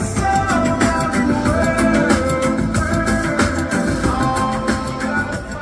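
JL Audio marine speakers with twin 8-inch subwoofers on each side aboard a Caymas 26HB boat play music loudly and steadily, with full bass and no talking.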